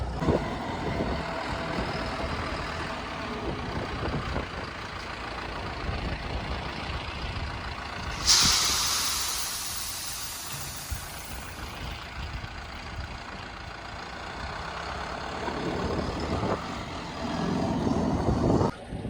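A John Deere loader carrying a 1.2 cubic metre bucket loads corn grain, its engine rumbling and idling throughout, with a sharp hiss burst partway through and a rising engine swell near the end.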